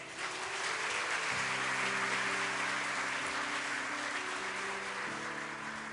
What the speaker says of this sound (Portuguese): Aplauda ele por isso.